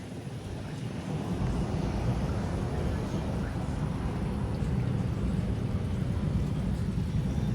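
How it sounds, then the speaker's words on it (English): Frontier Airbus A321 departing from runway 8 for Atlanta, a steady broad roar of jet engines with wind noise, holding evenly loud from start to finish. "we have this Frontier A321 departing to Atlanta. Now about to roll down from runway 8 here in the North Complex."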